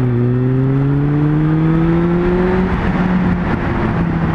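Suzuki Bandit 600 motorcycle with about 80 brake horsepower accelerating hard on a private road, its engine note climbing steadily and loud, then dropping and rising again after a gear change, close and continuous with no talk.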